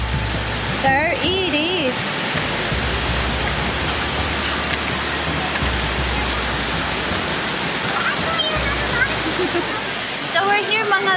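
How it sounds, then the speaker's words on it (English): Josephine Falls roars with heavy, continuous rushing water swollen by recent rain, a loud unbroken wash filling the scene, while voices can be heard talking briefly over it. "Look, this is Josephine Falls behind."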